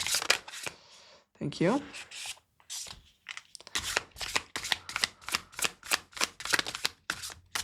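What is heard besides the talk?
handling and drawing tarot cards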